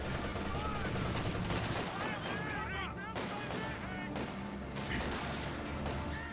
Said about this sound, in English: we'll see burst there from the MG34